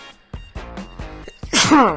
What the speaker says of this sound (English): I didn't mean to sneeze like that